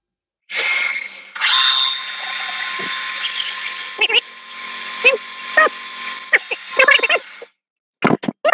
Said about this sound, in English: In goes the drill.